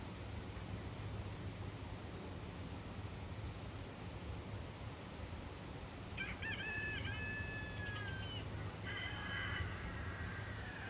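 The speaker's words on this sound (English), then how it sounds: "All the chickens are coming down to look at the pigs" A rooster crows partway through, fairly distant, over a steady outdoor hiss of wind or rain, followed by a shorter second crow; chickens are gathered near pigs on a farm.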